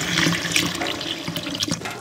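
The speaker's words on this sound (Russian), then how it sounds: "Гречки беру примерно пол кружки и слегка ее с вами промоем." About half a cup of buckwheat groats being rinsed under running water in a home kitchen during a Siberian winter, a steady close splashing and trickling rush with no speech.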